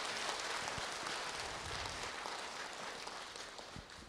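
Sustained applause from an audience at a Buddhist ceremony celebrating a monk's ninetieth birthday and the presentation of his collected works, a steady dense patter of clapping holding for several seconds.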